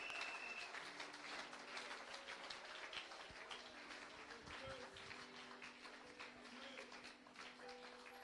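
A church congregation at a Sunday service applauds in praise, a steady wash of distant clapping that holds for several seconds at low volume, with faint murmurs mixed in.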